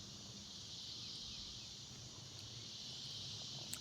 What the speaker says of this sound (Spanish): Chicharras en invierno.